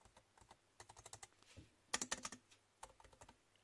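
Close-up typing on the plastic keyboard of a cheap fanless Celeron laptop with Windows 10 Home: uneven bursts of light clicky keystrokes, with a dense flurry midway and short pauses between runs.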